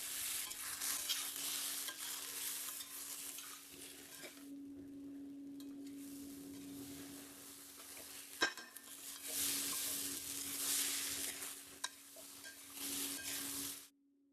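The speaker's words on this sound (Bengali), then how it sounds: "এটাকে এখন ভালো করে কষিয়ে নিতে হবে, একটু গন্ধটা বেরোনো অবধি ভালো করে কষাতে হবে।" Rice is stir-fried in a pan for basanti pulao, with a soft sizzle and repeated scraping strokes of a spatula, plus a sharp clink near the middle, fairly faint and close.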